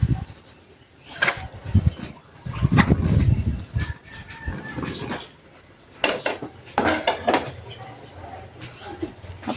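Chili leaves going into a cooking pot with papaya: a run of clattering pot and utensil knocks and rustling, close and fairly loud, with bursts of scraping, while someone talks and birds call faintly in the background.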